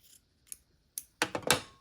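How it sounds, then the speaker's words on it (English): Scissors snip through quilting fabric while pumpkin pieces are cut for a quilt: a few faint crisp clicks first, then two louder, close snips in quick succession with no talk. "let me just snip this"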